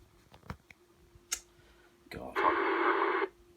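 A radio scanner tuned to air traffic transmissions gives sparse clicks and ticks, then a burst of squelch and a short loud patch of static-laden radio signal.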